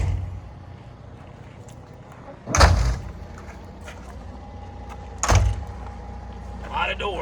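Two loud pneumatic coach door thumps a few seconds apart, each with a hiss, over a steady Temsa coach engine idle and faint background chatter.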